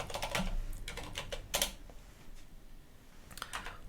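Quiet, close clicking of computer keyboard keys as a password is typed, in short uneven clusters of keystrokes separated by brief gaps over a faint background hiss.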